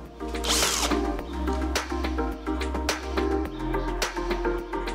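A power drill drives a screw into wood while building a wooden side table, giving a loud, close, steady motor whine that shifts pitch in stepped bursts with ratcheting clicks as the screw bites, with no talking.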